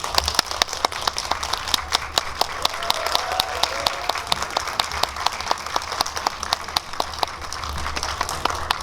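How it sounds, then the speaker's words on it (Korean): Audience applause at a Korean film screening and Q&A event in a Megabox cinema hall, steady dense clapping from a seated crowd sustained throughout, fairly even in level with sharp individual claps standing out. "박수로 환영해 주세요"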